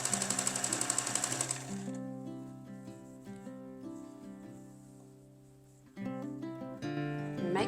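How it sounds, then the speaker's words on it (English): A sewing machine runs down the edge of a folded fabric tie in a fast, even buzz of stitches for under two seconds, then falls silent as soft tonal background music carries on. "we're just going to sew right down the edge"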